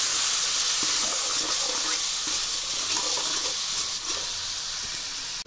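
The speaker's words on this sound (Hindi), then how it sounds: "थोड़ा सा मैं इसमें पानी डालूंगी ताकि हमारे मसाले जले नहीं अच्छे से पके।" Water poured into a pan of frying spices for red masoor dal with potatoes, giving a loud, continuous hissing sizzle that runs steadily throughout and cuts off abruptly at the end.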